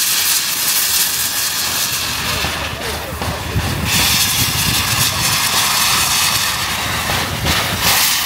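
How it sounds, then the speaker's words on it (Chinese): A small coal-fired steam locomotive on the Diaobingshan heritage railway pulls away, its loud, continuous steam hiss filling the air close by, with rougher rushing surges over a low rumble. "火车终于再次出发了"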